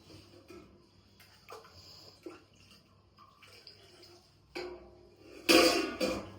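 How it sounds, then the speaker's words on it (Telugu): Water is poured into a kitchen grinder jar with oil while making mayonnaise, a quiet trickling that ends in a short, loud splashing gush near the end, with faint knocks and handling noises around it. "వాటర్ వేసుకోవాలి."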